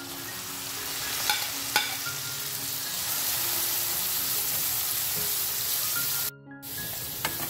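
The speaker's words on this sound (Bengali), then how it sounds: "পেঁয়াজটা নরম হয়ে যাওয়া পর্যন্ত আমাদের ভাজতে হবে" Chopped garlic, ginger, green chili and onion sizzle in hot oil, a steady, loud frying hiss with a few stirring clicks. The sound drops out briefly near the end, then resumes.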